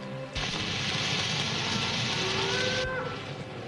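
Cattle on a Mexican ranch moo from close by, one long lowing call over a steady noisy background, with a faint wavering tone near the end and no talk.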